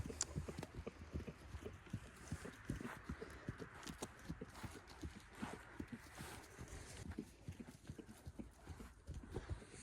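A horse trotting on a lunge line, its hooves clip-clopping in a quick, steady rhythm that runs the whole time, fairly close and clear, with no voices over it.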